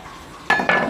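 A metal wok clanks down onto a stove twice in quick succession, close and sharp after a moment of quiet hiss.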